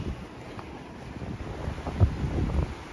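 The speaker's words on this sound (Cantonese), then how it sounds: "好凍啊，好大風啊！" Strong wind in Birmingham, England, buffets the microphone as someone walks into it, a steady low rumble with heavier gusts swelling near the end; no talking.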